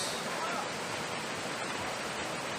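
Broadband rushing water from a river at the Siloni picnic spot in Karbi-Anglong, Assam, flowing steadily and close by with no break across the short stretch.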